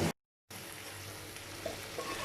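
Fried eggs being set into a cooked curry masala in oil, a close, continuous sizzle with a brief dropout near the start.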